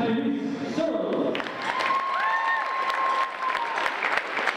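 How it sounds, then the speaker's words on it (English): Applause from a crowd at a men's college basketball game, LTU against Rochester College, as a player is introduced, steady and fairly close, with an announcer's amplified voice over it. "Let's have a round of applause for this"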